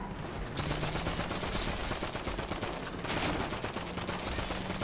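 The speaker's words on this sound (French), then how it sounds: "Ok, ça me tire dessus." Video game gunfire at a military base with a tank, rapid bursts of automatic shots rattling almost continuously, fairly faint and with no talk over it.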